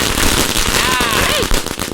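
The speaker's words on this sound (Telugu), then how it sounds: "క్రాకర్స్ కాల్స్తున్నాను" Firecrackers burst in rapid, sharp cracks close by, dense and loud across two seconds, layered over a brief rising whistle.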